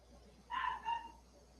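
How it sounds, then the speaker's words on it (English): A pet dog lets out a short, faint two-part bark or yip against a quiet indoor background, heard once and fairly distant. "my doggy."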